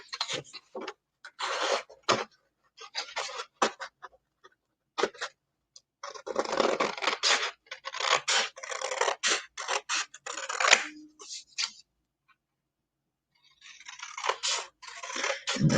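Scissors snipping around a skating picture on a postcard for a winter journal, in short bursts of crisp cuts separated by pauses, close and fairly quiet with no talk.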